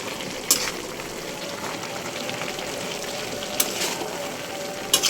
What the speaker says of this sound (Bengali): আমি সুন্দর করে কষিয়ে নেব। এটা শুটকি রান্না।